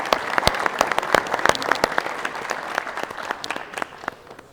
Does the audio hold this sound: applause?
yes